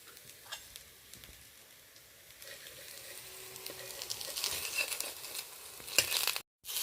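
Pumpkin flower pakoras fry over a low gas flame, a soft steady sizzle with scattered ticks and crackles that swells louder toward the end, then cuts out briefly.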